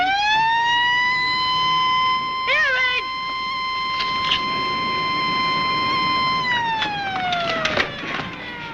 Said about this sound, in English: Air raid.